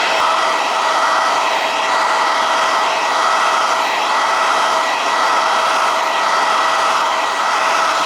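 A hair dryer blows steadily at close range during barber hair styling, a loud continuous whooshing hum with no pauses and no voices.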